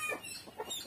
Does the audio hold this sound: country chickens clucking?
yes